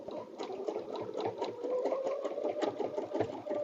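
A sewing machine stitching a quilted butterfly bed runner, a rapid, steady mechanical whirring with a fast rhythmic needle pulse, moderately faint and continuous with no talk.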